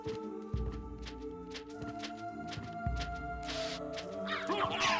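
A crow caws several times in the Castlevania video game, fairly faint and mixed with game music and effects, the harsh calls arriving at intervals with a brief burst of noise near the end.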